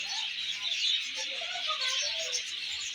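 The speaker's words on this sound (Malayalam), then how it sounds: "നിറയെ പക്ഷികൾ ചെറിയ പല കളറിലുള്ള തത്തകൾ" Lovebirds and other small parrots chirp and twitter steadily in a dense, high-pitched chorus, fairly faint, with no voices.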